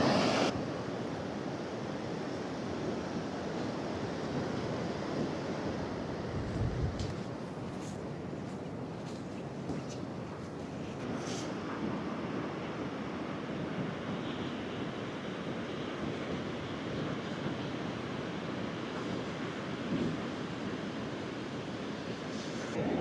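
Waves and wind on a Scottish beach on a sea fishing day, a steady broad roar of surf with constant wind buffeting the microphone throughout, no voices.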